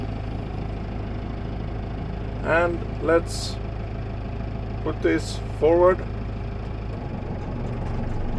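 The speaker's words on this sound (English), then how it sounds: "the tractor starts moving, and now I can put it backwards and the tractor moves direction" A Case IH CS100 tractor engine idles with a steady low rumble and drone throughout, while someone talks intermittently over it.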